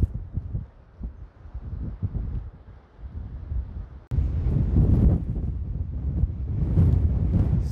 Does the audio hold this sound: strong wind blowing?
yes